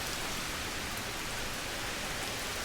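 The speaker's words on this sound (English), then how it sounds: "And now it's starting to rain." Steady rain falling on a neglected no-dig garden, a dense even hiss of drops that holds constant throughout with no voices.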